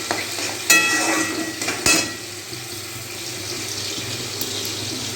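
Fish frying in a pan and being stirred, with a steady broadband sizzle and two sharp scrapes of the spoon early on, then a quieter, even sizzle.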